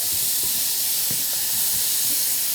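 Lamb sears in a hot pan with turmeric for an Ethiopian dish, giving a steady, close sizzling hiss with a few soft low knocks from the pan.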